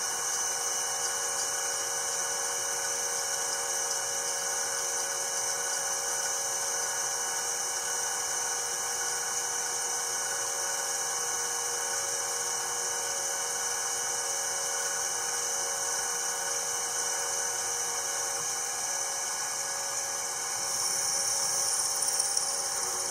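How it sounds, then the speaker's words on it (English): A drill bores one more hole in a workpiece, its motor giving a steady high whine that holds evenly for over twenty seconds, moderately loud with no voices. "And now I've just got one more hole to drill."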